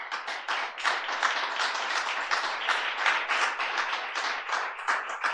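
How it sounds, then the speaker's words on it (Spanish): A church congregation claps during a sermon, with loud, rhythmic, closely spaced claps forming a continuous round of applause with no voices. "Dar un aplauso al Señor."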